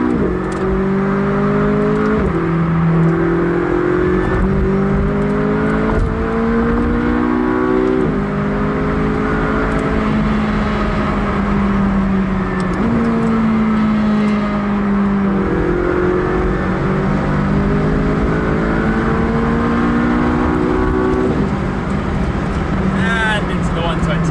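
A McLaren accelerates hard onto the Autobahn, its engine note climbing loud and close through a series of quick gear changes, with a steady roar of road and wind underneath.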